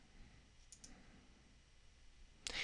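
A single sharp mouse click on a computer Start button, close and distinct near the end after quiet room tone and two faint earlier ticks, no talk.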